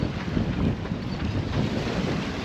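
Waves slosh and splash against a catamaran's hull at sea, a steady churning wash under gusty wind noise on the microphone, with no voices.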